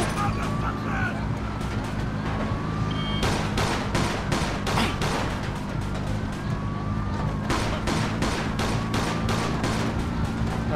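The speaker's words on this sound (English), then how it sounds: "They're shooting at me." Gunfire in Mafia 2 aimed at a fleeing car, with rapid volleys of sharp shots in two clusters over a steady engine drone, plus whistling tones and game noise throughout.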